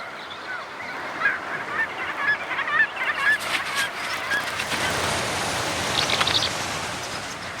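Chorus of small seabird calls from ancient murrelets, high chirps and whistles over a continuous hiss of surf or wind, fairly loud and close, with no voices.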